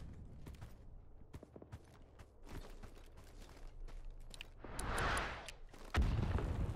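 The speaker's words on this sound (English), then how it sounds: "That's friendly artillery coming in?" Friendly artillery shells land in the video game Rising Storm 2, a scatter of sharp cracks and thuds over a rumbling battlefield bed, with one heavier, swelling boom near the end followed by a loud blast.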